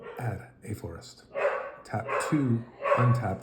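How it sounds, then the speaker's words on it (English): A pet dog barking indoors, short yips and barks mixed in under a person talking steadily nearby. "She just barks for no reason sometimes."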